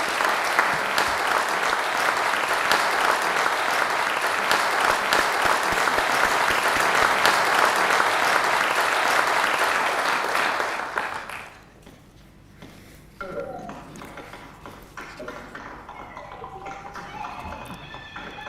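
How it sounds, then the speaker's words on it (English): Sustained loud applause from house members at a provincial address, dense and steady for about eleven seconds before dropping away to quieter room sounds and brief talk. "There's the clapping, Premier, from the house virtually."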